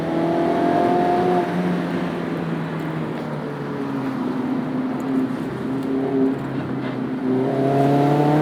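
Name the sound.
Mazda MX-5 Miata E85 accelerating in canyon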